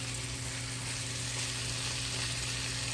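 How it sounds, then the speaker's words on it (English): Ground meat frying in a pan for Tuscan stuffed peppers, a steady close sizzle with faint scraping as a spatula edge breaks the meat apart, continuous and fairly quiet with no talking. "then I'm just gonna kind of start to like break this all up using the side of my spatula"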